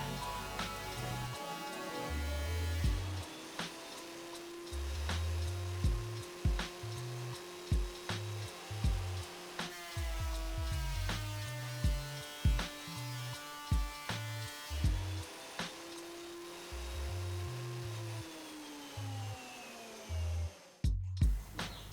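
Jet JWP-12 planer feeding timber through in repeated passes, a steady motor whine with rough cutting bursts and knocks as each board enters and leaves, loud and close.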